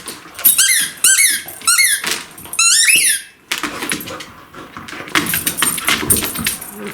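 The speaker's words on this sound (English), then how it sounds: "Ooh, and a squeak toy." A dog's squeak toy squeaks in a quick run of sharp, rising squeals, four loud bursts close by, followed by rustling and handling noise with no voices.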